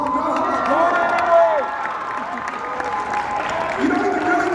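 An indoor audience applauds and cheers loudly, with whoops and raised voices over continuous clapping, and people talking and shouting amid the noise.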